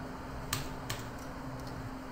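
A few sparse keystrokes on a computer keyboard in MS Word, three or so light clicks spread over a couple of seconds against a steady low hum.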